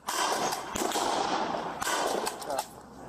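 A few sharp gunshots crack over a noisy, rushing background during a police shootout, with two distinct reports about a second apart and a smaller pop near the end.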